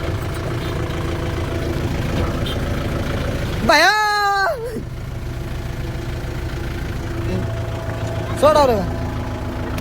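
A tractor engine idles with a steady low rumbling throb from start to finish, while voices talk briefly over it at two points.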